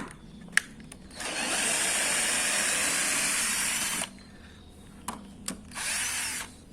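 A Ryu RCD 12V cordless drill runs in drill mode with a steady high whine for about three seconds, then stops. Two sharp clicks follow, then a shorter burst of whirring, all close by.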